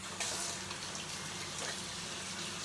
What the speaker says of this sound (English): wash this off my hands real quick